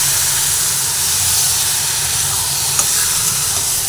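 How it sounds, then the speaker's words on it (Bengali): Marinated chicken pieces being stirred in a hot frying pan for capsicum chicken, a steady close sizzle and hiss with soft scraping throughout and one brief knock near the end. "যে মাংসটা ম্যারিনেট করে রেখেছিলাম মাংসটা এর মধ্যে দিয়ে দিলাম। মাংসটা দিয়ে ভালোভাবে আবার নাড়াচাড়া করে নিচ্ছি।"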